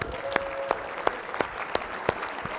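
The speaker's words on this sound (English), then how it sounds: "Let's give Garrett a huge round of applause." A small group at a team meeting gives a sparse round of applause, with a few distinct claps spaced roughly evenly, fairly close and moderate in volume.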